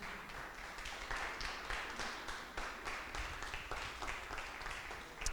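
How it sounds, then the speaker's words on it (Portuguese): A church congregation applauds quietly in the distance, a soft, steady patter of many hands clapping that continues without pause. "dê um aplauso ao Senhor se for possível"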